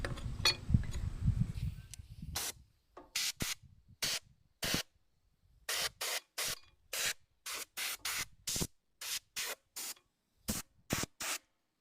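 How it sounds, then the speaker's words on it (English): Compressed air blasts dust off an old Delta jointer motor in a string of short, sharp hissing bursts of varied length, close and loud, with quiet gaps between them after a brief stretch of low handling noise. "I'll get the compressed air and blow this all off"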